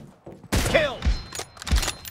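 Sniper rifle fire from an M24 in the BGMI mobile battle game: a sharp loud crack followed by a few dull thumps and rolling echoes, with faint game noise around it.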